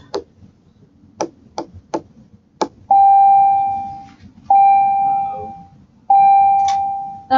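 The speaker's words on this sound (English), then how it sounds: "the bell rang on me" A classroom bell rings in three long, steady electronic tones, each lasting over a second, following several sharp taps or knocks; loud and close.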